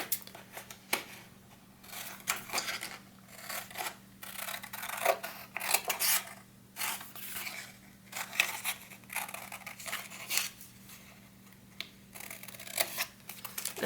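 Cardboard for a Harry Potter wand box is cut by hand in a steady series of close rasping, scraping strokes with brief pauses between them and no talking.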